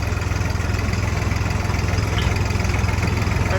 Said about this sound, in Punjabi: ਹੁਣ ਇੱਥੋਂ ਆਪਾਂ ਟਰੈਕਟਰ ਤੇ ਜਾਵਾਂਗੇ